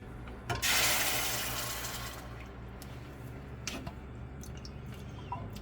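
Canned pasta sauce poured into a pan on medium heat: a brief wet glugging splat followed by a soft sizzle that fades, then a few faint taps and clinks close by.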